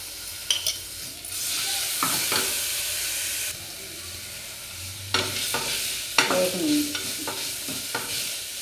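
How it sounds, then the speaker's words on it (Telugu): Ginger garlic paste sizzles in hot oil in a frying pan for a chicken curry, a steady close hiss broken by repeated clinks and scrapes of a spoon stirring against the pan. "అల్లం వెల్లి పేస్ట్ కొంచెమే వేస్తున్నాను"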